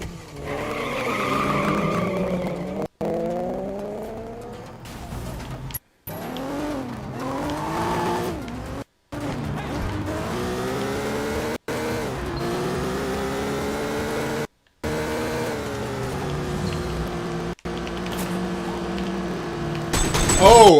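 Car tires skid and an engine drives on in the Sleeping Dogs Definitive Edition video game, a loud, continuous run of squealing and motor tones under music, with several short breaks.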